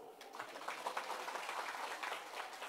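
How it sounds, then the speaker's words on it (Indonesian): Faint, steady applause from a church revival congregation in Minahasa, a dense patter of many hands clapping that holds evenly for a few seconds. "Tepuk tangan dulu"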